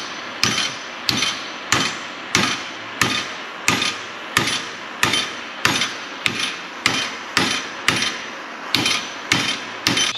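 A hammer striking a metal part of a mini gooseneck trailer, about fifteen sharp, ringing blows at a steady, slightly uneven pace, close and loud.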